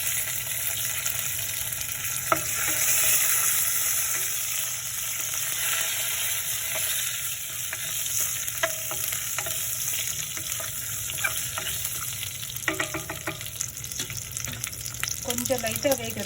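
Garlic and curry leaves crackle and sizzle in hot oil, a steady close frying hiss with scattered pops and a few stirring scrapes near the end.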